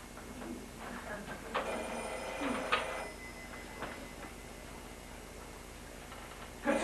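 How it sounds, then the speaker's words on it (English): A telephone bell rings in a domestic interior, a couple of bursts of metallic ringing in the middle of the passage, moderately near, with quieter background before and after. "Could somebody else get that phone?"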